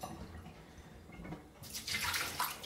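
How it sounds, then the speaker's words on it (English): Water from a tap pours quickly into a glass, a steady loud gush that starts abruptly partway through and fills the rest, over faint room noise beforehand. "the water runs very quickly, and this glass of water will fill very quickly."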